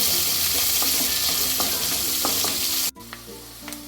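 Sliced big onions fry and get stirred in oil in a pan, a loud dense sizzle with spoon scrapes that cuts off abruptly near the end, leaving a quieter hiss and a few light knocks.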